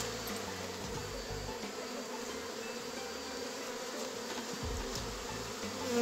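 Wild bees swarm into a box, a dense, loud, continuous buzzing hum that holds steady throughout, close by with no talking.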